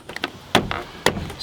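Two sharp, solid smacks of a hand against a truck door panel, snapping it into place, about half a second apart, with light rustling and handling noise around them.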